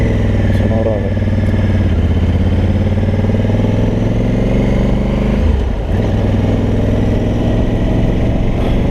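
A Honda Africa Twin motorcycle rides slowly over gravel east of Reno, Nevada, its engine giving a loud, steady low drone with a brief dip midway. The rider's voice is also heard.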